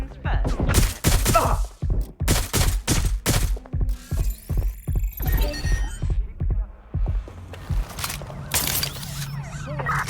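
Police gunfire in Watch Dogs Legion cracks out as a long run of sharp, loud shots in a steady rhythm, then thins into scattered bangs over siren-like tones and background noise.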